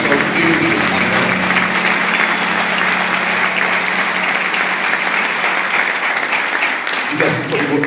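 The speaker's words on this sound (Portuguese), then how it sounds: "Pode aplaudir forte ao Deus do Israel." A church congregation applauds loudly and steadily in praise during a worship service, the dense clapping filling the room before easing off near the end.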